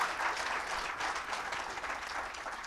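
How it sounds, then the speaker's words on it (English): Audience applause for dignitaries at a tourism event: a steady wash of many hands clapping together, moderately distant and sustained throughout, gradually easing slightly toward the end. "let's give a huge round of applause to these wonderful dignitaries over here."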